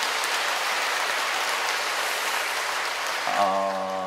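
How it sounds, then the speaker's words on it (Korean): Catholic parish congregation at Sunday Mass clapping in welcome for a deacon; a steady, rain-like wash of many hands fills the room, with an organ or sustained tone entering near the end. "우리 큰 박수로 환영해 주시고요."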